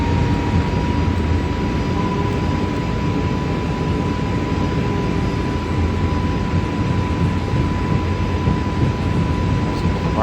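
Airbus A320neo engines at takeoff thrust in Microsoft Flight Simulator 2024, an easyJet jet departing Paris Charles de Gaulle: a loud, steady roar with a sustained high whine, constant throughout with no talk.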